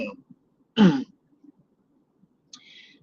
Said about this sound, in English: I'm clearing my throat because I want y'all to hear this clear